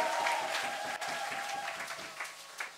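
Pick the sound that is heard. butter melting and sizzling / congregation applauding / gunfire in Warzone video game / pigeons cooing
congregation applauding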